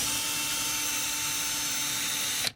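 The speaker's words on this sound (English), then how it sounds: "Now we're going to drill the better one." A power drill whines at a steady high pitch for over two seconds while boring a hole in a small vintage toy accessory part, close and loud, then abruptly stops.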